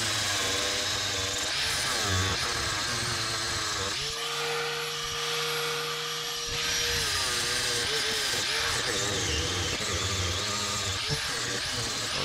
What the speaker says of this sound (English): I'm just trying to grind down that lip that was left in the build hole or build area that was there originally